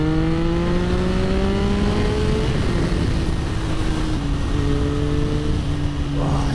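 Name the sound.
Triumph Sprint 955i motorcycle accelerating in second gear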